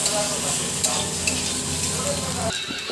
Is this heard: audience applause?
no